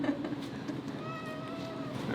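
A cat meows a few times, fairly close, over steady background noise, with a drawn-out wavering cry near the end.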